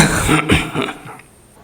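A few harsh, rough coughs in quick succession, close and fairly loud, then trailing off into quiet.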